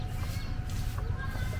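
Native chickens, a hen guarding very young chicks, clucking softly and continuously at close range amid steady outdoor background noise, with no clear talk.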